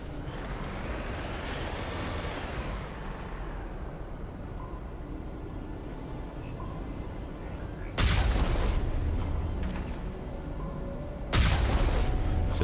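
Gunfire and explosions rumble through a firefight in the video game Mass Effect, with a dense, steady roar of shooting broken by two loud blasts near the end, no talk over them.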